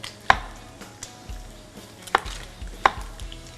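A kitchen knife slices eggplant thinly on a cutting board for a Thai stir-fry, making a handful of crisp, irregular chops close up in a quiet room.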